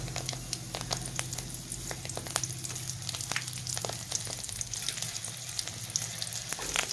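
Hibiscus petals and curry leaves fry in oil in a home kitchen, making a constant crackling sizzle with dense pops and stirring scrapes throughout, close and fairly quiet, with no talking.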